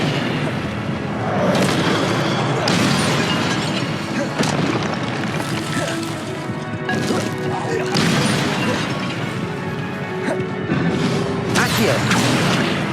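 Levioso levitation spell effects in Hogwarts Legacy: a long, busy run of loud magical whooshes, booms and crashes recurring every second or two, with a few short bursts of voice mixed in.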